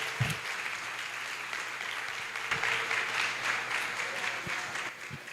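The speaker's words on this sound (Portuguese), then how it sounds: "uma calorosa salva de palmas" Applause from a church congregation during a missions service, steady and fairly full across the whole stretch, with a few faint voices underneath.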